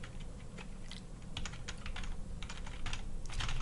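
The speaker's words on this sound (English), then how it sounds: "I did that by typing in parameters here" Quiet, irregular clicking of keys on a computer keyboard, quick bursts of keystrokes with short pauses between them.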